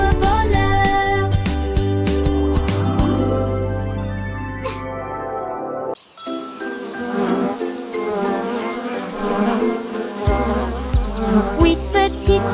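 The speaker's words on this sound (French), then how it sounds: "petites abeilles ont commencé à bourdonner" Steady, loud bee-like buzzing runs over bouncy music, with a short break midway before the buzzing and music resume.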